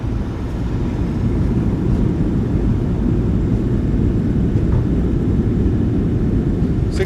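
Boeing 737-800 thrust reversers roar during landing rollout in a PMDG flight simulator, a loud, steady low rumble holding evenly throughout with no voices.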